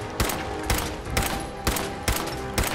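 Five evenly spaced loud gunshots from the Fallout 4 video game ring out about half a second apart over a steady background of game noise, each with a sharp attack and a short ringing tail.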